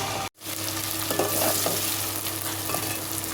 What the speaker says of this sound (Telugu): అల్లం వెల్లుల్లి పేస్ట్ కూడా వేసుకొని ఇది పచ్చివాసన పోయే వరకు అయితే ఫ్రై చేసుకుందామండి